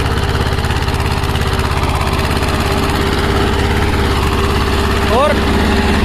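A small Sonalika tractor's engine runs loud and close, a steady throbbing diesel drone that stays constant throughout with a brief voice near the end.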